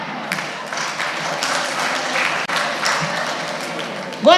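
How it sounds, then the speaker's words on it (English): An audience at a business talk claps together in a steady, dense patter of many hands, holding evenly throughout, with a brief louder vocal burst at the very end. "So clap!"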